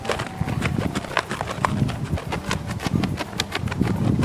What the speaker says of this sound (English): See, he's getting a little concerned about the noise of the flag. So I'm just gonna wave it around.